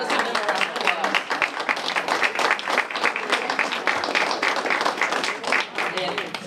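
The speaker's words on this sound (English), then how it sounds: "let's give them a round of applause" A crowd at a senior center's Fourth of July cookout claps for a couple's 72nd wedding anniversary, with thick, continuous clapping, a mix of sharp individual claps and the general roar, and voices and cheers mixed in.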